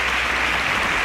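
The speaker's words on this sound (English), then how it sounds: "a round of applause for them as they exit the stage" An audience at a televised youth quiz competition applauds as contestants exit the stage, with a continuous, even roar of clapping that fills the whole moment.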